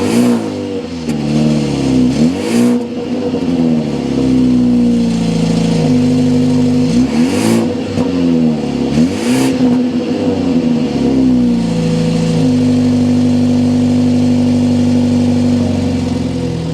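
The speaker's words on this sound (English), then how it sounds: "start it up so you can hear that exhaust note" Exhaust note of a 2023 BMW 330e plug-in hybrid with a twin-power turbo inline four-cylinder, heard close as it idles steadily and then blips the throttle in a few sharp rising and falling revs.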